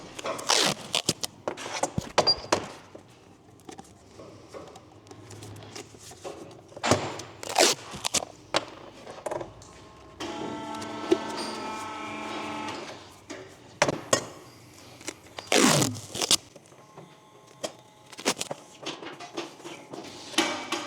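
Masking tape tears and crinkles as it is wrapped over the exhaust pipe ends before TIG welding with a purge, in irregular close rasping bursts and short pauses, with no talking.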